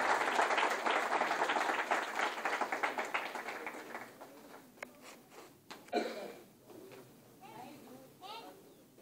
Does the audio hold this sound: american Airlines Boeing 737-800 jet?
no